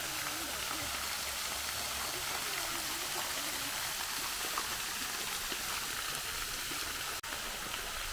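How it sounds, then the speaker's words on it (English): Water pours steadily down the roof of an ornamental fountain in the gardens of Chatsworth stately home, a continuous close rushing and splashing wash with no break. "water even runs down on the roof"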